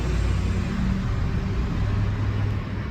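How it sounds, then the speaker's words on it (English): A garbage truck passes outside, a steady low engine rumble that holds through the whole stretch, fairly close and continuous, with no voices over it. "That was the garbage truck."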